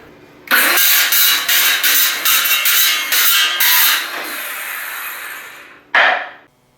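A power tool drives screws into small homemade wooden log pieces, with a series of loud, close whirring bursts in quick succession that taper off, then one last short burst, no talking.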